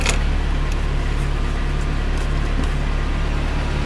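A 1980 Datsun 200SX idles and creeps forward in first gear, a steady, close engine drone with a constant low hum, no voices.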